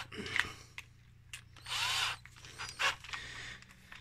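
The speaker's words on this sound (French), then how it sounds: "on va percer la coque et tout" A power drill bores into the hull of a ProBoat Blackjack 42 model boat, with short close bursts of whirring drilling separated by quiet pauses and small mechanical clicks.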